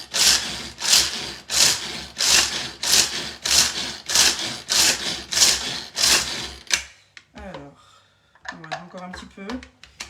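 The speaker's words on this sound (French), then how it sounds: "je vais un petit peu hacher aussi des amandes" Whole almonds being chopped in a food chopper, about ten loud rhythmic whirring pulses in quick succession, followed by quiet with a person speaking.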